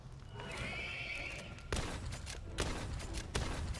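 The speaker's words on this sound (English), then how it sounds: "Yes, you're a cool horse." In the video game Palworld, a horse lets out a long, wavering whinny, then heavy hoof clops and thuds follow in irregular bursts, fairly close and with no talking.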